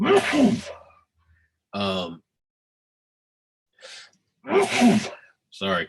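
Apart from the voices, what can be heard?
sneeze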